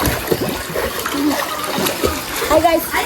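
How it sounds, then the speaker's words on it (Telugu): A boy splashes and plunges into water, sending up choppy splatters under nearby voices and chatter. "ఈ అబ్బాయి వాటర్లో మునిగిపోయి"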